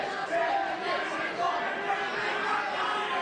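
A live wrestling event crowd chattering and calling out together, a diffuse, steady murmur of many voices filling a hall at moderate distance with no single voice standing out.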